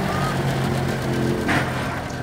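A 1961 Porsche Super tractor drives past in a tractor parade, its engine giving a steady low chugging rumble, fairly close and continuous.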